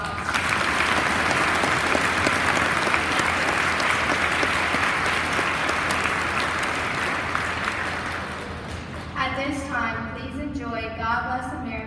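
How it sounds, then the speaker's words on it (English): Sustained audience applause at a school Veterans Day assembly, dense and loud for about eight seconds before tapering off as a voice speaks over the fading claps. "Let's give them one more round of applause."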